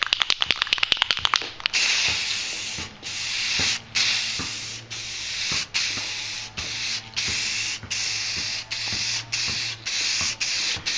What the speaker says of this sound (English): our first coat of the crystal clear enamel is going to be more of a mist coat, just so it has a chance to bite into it